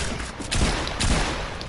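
Shotgun blasts in a first-person shooter video game from a blue pump shotgun, two loud booming shots about half a second apart over a dense, noisy game mix.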